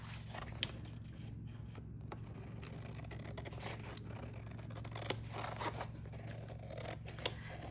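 Scissors trim the top edge of paper for a junk journal, giving a quiet run of close, crisp snips and cutting scrapes over a low steady background hum.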